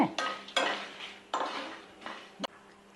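Dried red chillies, cumin and husked urad dal roast in a pan, stirred with a spatula in about five quick, dry scraping strokes and a final light clink, quiet and close.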